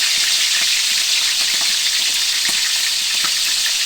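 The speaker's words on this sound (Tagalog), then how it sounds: "Medyo matalsik to, kulong-kulong na mantika." Shrimp frying in very hot oil, a steady loud hiss and sizzle with scattered crackling pops from splattering, continuous throughout with no voices.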